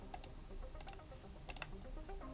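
A computer keyboard's arrow keys are tapped in three quick bursts of two or three crisp, close clicks each, quiet and without speech.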